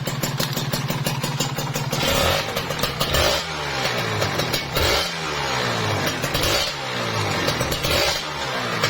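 A repaired Kawasaki Ninja RR two-stroke motorcycle engine runs steadily up close, loud and continuous with a few blips of revving and rattly exhaust tone throughout, no one talking.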